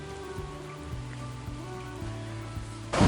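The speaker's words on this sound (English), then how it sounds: "it is raining" Rain falling during the bike leg of a multi-day expedition adventure race in Alaska, a steady soft hiss with low rumbling tones underneath, growing louder in the final moment.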